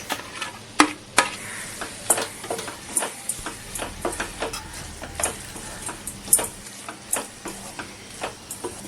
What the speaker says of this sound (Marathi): हे आता चांगले आपण फ्राय करून घेणार आहोत